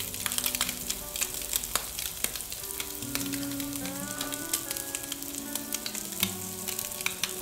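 Scallops searing and sizzling in a hot pan, a loud continuous crackle with sharp spits, while tongs turn them over; a faint tonal hum sits underneath and no one speaks.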